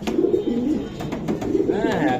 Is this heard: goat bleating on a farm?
no